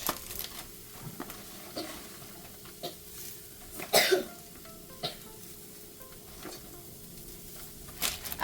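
Spinach and other greens cooking in a pan for a goddess bowl, with a soft steady sizzle, occasional stirring scrapes and a few louder clatters, moderately close, with no talking.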